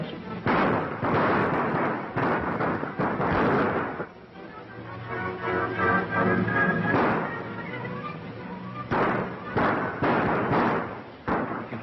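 Repeated gunshots crack loudly in clustered bursts in a 1936 western film, Desert Gold, and someone speaks during a pause between the volleys.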